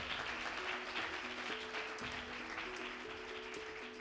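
A live summit audience applauds podcast guests, steady clapping under sustained musical tones that play throughout.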